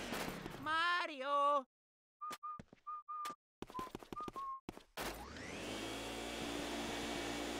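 Luigi's vacuum switches on in Luigi's Mansion after some short whistling, voice-like game sounds, then gives a loud, steady rushing suction roar that continues to the end.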